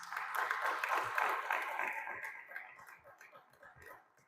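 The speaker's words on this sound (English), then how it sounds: "also a round of applause" Modest applause from a school board meeting audience, a soft wash of clapping that thins out over a couple of seconds and trails off into scattered, faint claps and room noise.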